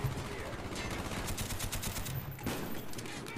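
Sustained automatic gunfire from an M60 in Call of Duty Black Ops on PC, a dense loud stream of rapid shots filling the whole stretch with almost no pause.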